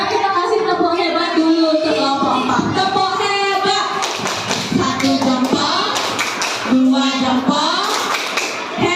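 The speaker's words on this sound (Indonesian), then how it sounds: "Sekarang kita kasih tepuk hebat dulu untuk kelompok" Indonesian classroom students give a patterned cheer clap for a presenting group, with rhythmic claps and taps mixed among chanting children's voices and talk throughout.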